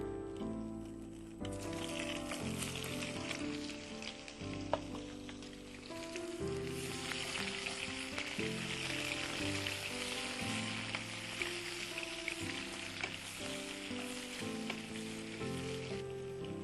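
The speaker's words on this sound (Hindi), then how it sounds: "अब इसी ऑयल में हम थोड़ी प्याज ब्राउन करेंगे।" Onions browning in oil in a pan, a steady continuous sizzle and crackle of frying with faint background music tones, close and unbroken throughout.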